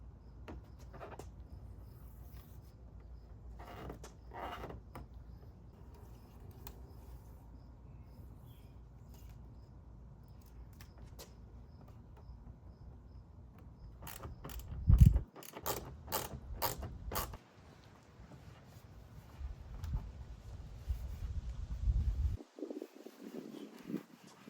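Screws are fastened on a Ram 1500 OEM-style fender flare. After a long quiet stretch with faint handling, a quick cluster of sharp mechanical clicks and ratcheting ticks comes close and distinct, followed by muffled handling noise.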